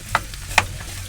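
Corned beef hash is mushed together in a hot frying pan: a low sizzle runs underneath while two sharp scraping jabs of the utensil stand out, close by.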